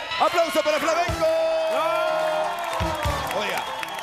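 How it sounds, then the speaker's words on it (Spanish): A television studio audience claps and cheers for a masked singer performing as Flamenco after a song, with loud whoops and shouts over a host's voice. "¡Aplauso para Flamenco!"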